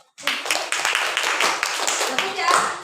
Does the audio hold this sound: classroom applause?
yes